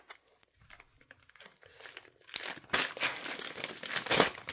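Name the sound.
crinkling plastic Ziploc bag and bubble wrap being unwrapped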